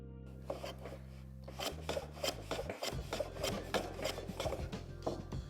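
A hand plane shoots a 15-degree miter on a wooden shooting board. A run of rhythmic, rasping wood strokes repeats about a dozen times at close range over a low steady hum, with no talking.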